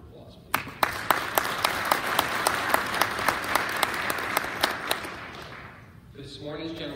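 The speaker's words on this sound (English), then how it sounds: "Let's give them a round of applause, please." Audience applause at a regulators' annual general session, with a few distinct loud claps standing out over the steady clapping, dying down near the end as a voice begins speaking.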